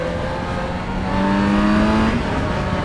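A 2012 Yamaha FZ6R motorcycle revs while riding, its engine note rising in pitch as it accelerates and then easing off, loud and close with wind and road noise beneath.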